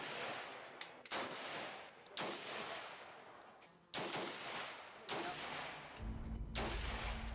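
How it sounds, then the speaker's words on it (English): An AK-47 fires at a shooting range in Vietnam, with loud, echoing bursts of rapid gunfire repeating every second or so and a booming reverberant tail between volleys. "civilians get a chance to fire an AK-47 here"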